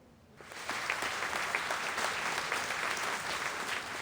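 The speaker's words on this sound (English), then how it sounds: "Golf claps" Golf claps from an in-game audience in Reverse: 1999, a steady patter of many hands that starts after a brief quiet moment and continues evenly, moderately loud, with no talking.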